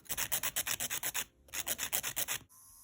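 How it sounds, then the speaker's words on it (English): A nail file rasping across a fingernail in quick, even back-and-forth strokes, about sixteen close scrapes in two bursts with a short pause between and nothing else heard. "I'm going to go ahead and start filing."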